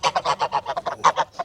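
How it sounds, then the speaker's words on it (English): Farm geese honk in a rapid, close series of about a dozen nasal calls, loud and rhythmic with brief gaps between them. "Look at the geese."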